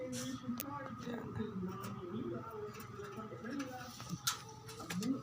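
Tippler pigeons coo softly and repeatedly close by, with low, wavering calls overlapping one another, while a person talks quietly at times in the background.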